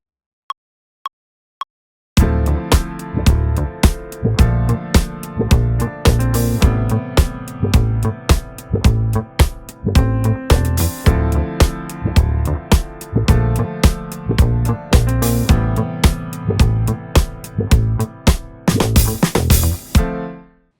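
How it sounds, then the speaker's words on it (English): Funk bass line run through a Guitar Rig Auto Bass Filter wah plugin, a loud rhythmic groove of punchy repeated notes with a swelling wah sweep, following a few sparse count-in clicks, with no talking. "Now on top of my bass line, I'm using this auto filter bass plugin from Guitar Rig."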